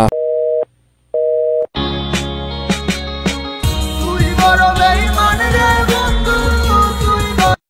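A phone line gives two short ringback tones, then a busy signal starts, followed by loud music playing.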